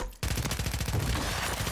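Call of Duty gunfire starts abruptly as a rapid automatic burst, a fast, even rattle of close shots that keeps going to the end.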